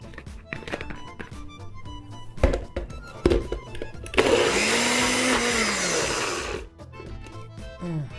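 A kitchen blender whirs loudly for about two seconds while liquefying avocado with a little water for blue corn tortillas, preceded by several sharp thunks and taps as the jar is handled.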